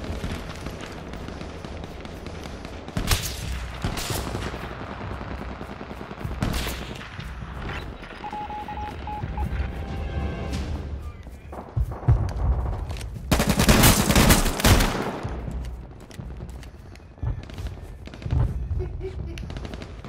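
Rapid bursts of automatic gunfire and single shots in the H1Z1 Battle Royale video game, loud and close, with a dense cluster of heavy fire in the middle and scattered shots around it.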